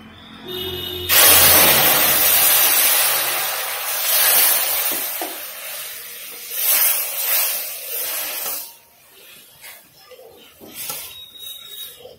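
Water poured into hot caramel bursts into a loud, close sizzle that hisses strongly for several seconds, then fades in uneven surges to a faint bubbling.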